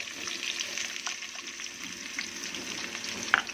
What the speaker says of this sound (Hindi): ऑयल हमारा गर्म हो चुका है और ये जो हमने प्याज काट के रखा था ये इसमें हम डाल देंगे